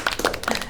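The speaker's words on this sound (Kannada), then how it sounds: "ಚಪ್ಪಾಳೆ" Hands clap for a contestant's win on a televised family game show: a few quick, close claps over less than a second, with no talk.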